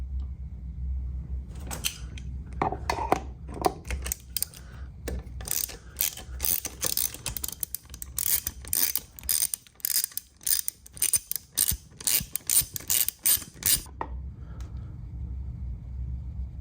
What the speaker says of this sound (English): 6mm hex, factory insert comes out